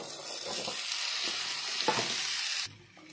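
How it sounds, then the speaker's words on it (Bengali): Green peas tumble into a sizzling pan of ghugni, a bright continuous frying hiss with soft stirring scrapes that drops away abruptly near the end. "এবারে মটরশুঁটিটা দিয়ে দিচ্ছি।"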